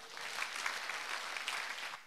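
Audience at a vocal academy closing concert applauds steadily, a soft, even wash of clapping heard at a distance for about two seconds.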